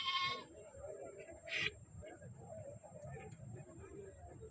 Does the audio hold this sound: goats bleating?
yes